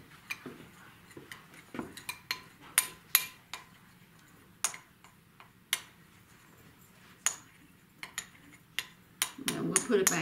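Metal spoon stirring a melted mixture for Valentine heart cookies in a bowl, giving sparse, sharp clinks and taps at irregular intervals, close and fairly quiet, with a brief louder scraping flurry at the end.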